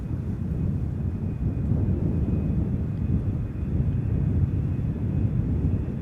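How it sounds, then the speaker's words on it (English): A KLM Boeing 777-300ER jet, thirteen years old, arriving at Schiphol Airport after a long flight from Vancouver, heard as a steady, broad low rumble with wind buffeting the microphone throughout, moderately loud and continuous. "Arriving from Vancouver, this 777-300ER KLM flight 682 has been on the way for 8 hours and 34 minutes"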